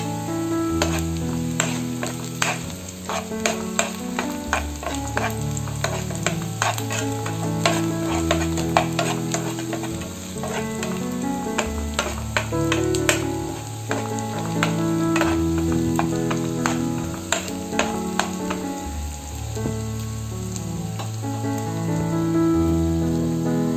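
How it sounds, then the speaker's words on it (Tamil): Chopped onions and green chillies sauté in oil in a pan for a South Indian rice dish, giving a steady sizzle broken by repeated scraping and stirring of the spatula. "இப்போ வெங்காயம் நல்லா வதங்கிருச்சு. இதுல வந்து ஒரு 2 பச்சை மிளகாய் வந்து நான் சின்னதா கட் பண்ணிருக்கேன்"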